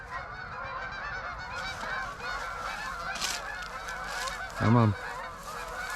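Geese honk repeatedly in the distance over a noisy outdoor background, with one louder nearby honk near the end and a brief voice speaking.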